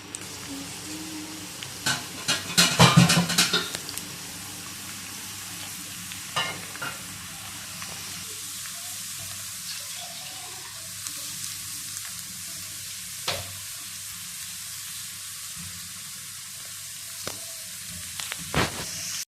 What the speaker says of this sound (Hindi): अब हम इसमें चॉप किया हुआ लहसुन ऐड करेंगे। अब हम इसको फ्राई कर लेंगे।